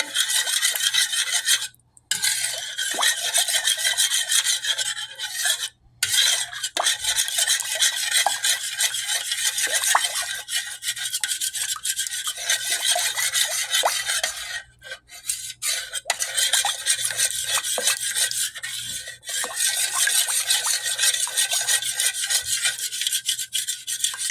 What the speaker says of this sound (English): I was trying to clean my cheese grater.